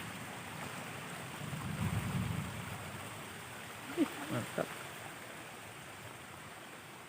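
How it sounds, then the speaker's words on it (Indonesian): A river near a village flows with a broad, steady rushing wash mixed with wind noise on the microphone, continuous throughout, with a short spoken word and a couple of faint knocks. "Ini kan sungai."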